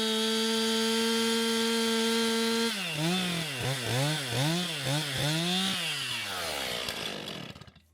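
A chainsaw idles loudly and steadily, then bites into a tree being felled, its pitch dipping and recovering in a rhythmic series of strokes before easing off and fading out.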